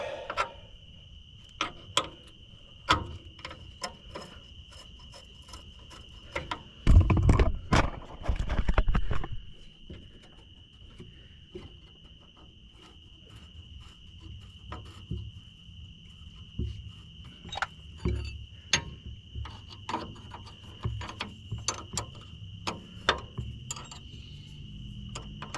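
Crickets chirp steadily through a quiet evening outdoors, a thin continuous trill running the whole time, broken by scattered clicks, footsteps and a louder rustling burst near the start.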